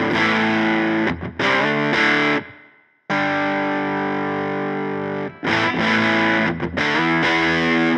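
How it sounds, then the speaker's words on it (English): Electric guitar driven through a low-to-mid gain overdrive pedal, loud sustained chords and riffs with a short gap near the middle, played alone with no talking. "So if we use this as a sort of more low to mid gain overdrive"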